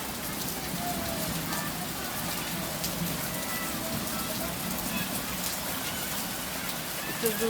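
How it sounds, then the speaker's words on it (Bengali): Steady rain falls on surfaces in a continuous hiss, with faint talk and occasional light knocks nearby. "প্রচুর বৃষ্টি হচ্ছে প্রচুর"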